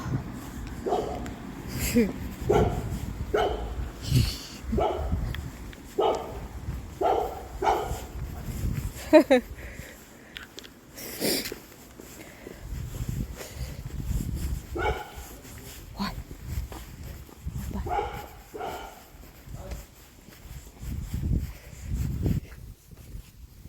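A dog barks and whimpers in repeated short bursts over nearly half a minute, close and fairly loud, with brief yips between.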